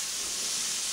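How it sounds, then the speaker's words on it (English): Spices and onions with curry powder fry in a pan, giving a steady, continuous sizzling hiss with no talk over it. "Right, so as you can see, the spices are frying out,"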